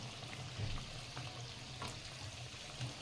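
Vada frying in hot oil in a small kadhai, giving a quiet, continuous bubbling sizzle with faint crackles throughout.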